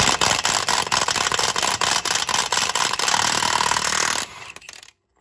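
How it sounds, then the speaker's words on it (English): Power tool, likely an impact wrench, hammering at a 46 mm nut on a VW Doka: a loud, rapid, continuous rattling burst lasting several seconds, then stopping abruptly. "I've never had a problem getting that nut off with this tool."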